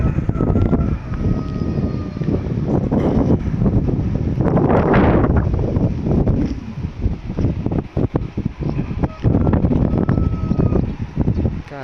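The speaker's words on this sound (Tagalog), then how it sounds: "sobrang hangin dito" Strong wind blows hard and steadily against the microphone outdoors, a continuous loud roaring rumble with gusting surges and no speech.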